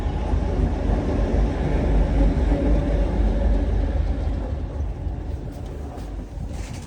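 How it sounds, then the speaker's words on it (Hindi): A D2 suburban train in Moscow rumbles steadily along the track, its deep continuous roar heard from inside or close by, easing slightly toward the end with no talking. "ये है वो D2 ट्रेन जो कि सबर्बन ट्रेन है"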